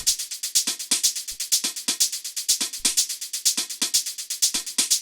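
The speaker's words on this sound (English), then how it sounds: "And then we have these shakers and hi-hats which sound like this." Crisp shakers and hi-hats tick in a fast, steady rhythmic pattern, bright and close, with quick repeating hits and no other instruments.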